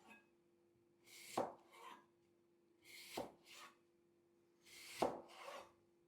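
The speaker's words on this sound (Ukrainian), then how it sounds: "Тепер дивіться, як ми нарізаємо яблуками. Нарізаємо його ось такими скибочками." Knife slicing an apple into very thin slices, three separate bursts of crisp cutting, each a sharp close cut followed by a softer scrape, with quiet pauses between them.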